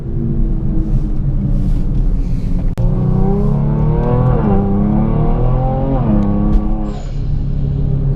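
A Kia Stinger's engine rumbles steadily, then revs sharply to about 4000 RPM with a rising roar and falls back, loud and close, with no talking.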